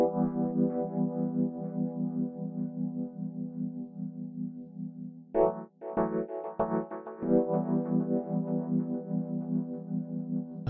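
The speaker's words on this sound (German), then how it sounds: "ich habe hier ein kleines Stückchen mit dem Rhodes gemacht." A slow, soft piece on a Rhodes electric piano, sustained mellow chords ringing with a few brief breaks between phrases, close and moderately loud, with no talking.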